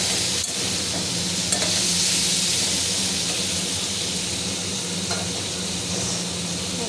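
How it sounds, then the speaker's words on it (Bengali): Vegetables fry in a hot pan while being stirred, a loud, continuous sizzle and hiss with a few scraping stirs breaking through close by. "সবজিটা দিয়ে দিলাম। এবার একটু নাড়াচাড়া করে নেবো।"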